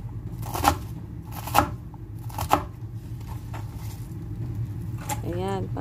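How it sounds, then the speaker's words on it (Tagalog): A knife chops cabbage into small pieces for a tomato cabbage omelette: three separate, fairly loud chops about a second apart over a low background hum, with a brief voice near the end. "Hiwain natin ang repolyo ng maliliit."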